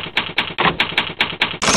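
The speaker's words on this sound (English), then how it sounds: "the typewriter." A mechanical typewriter clacks out a rapid, even run of about eight sharp keystrokes close up, ending with a brighter metallic carriage sound.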